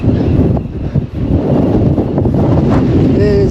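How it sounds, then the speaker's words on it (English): Strong wind buffets the microphone in the open recreation yard on Alcatraz Island, a loud, rumbling roar with gusty surges across the whole stretch and no voices. "It is very windy out here."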